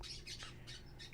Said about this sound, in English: Oh, these birds have been really loud today.